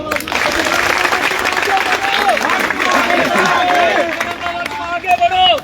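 A crowd at a protest rally at Azad Maidan claps loudly and continuously, with dense applause and a murmur of voices that thins slightly toward the end.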